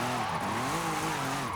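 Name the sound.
Audi RS5 drifting with tire squeal in Forza Horizon video game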